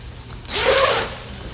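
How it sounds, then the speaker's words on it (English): A single zipper pulled along heavy boat canvas on a Key West 219FS/239FS boat, a rasping slide lasting about half a second, close by and fairly loud against quiet background. "Lift it up. Makes it easier for the zipper to engage."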